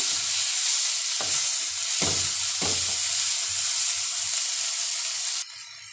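Mint leaves sautéing in a hot pan for chutney, a steady bright sizzle with a few scraping stirs of the spatula, close and loud, cutting off abruptly near the end.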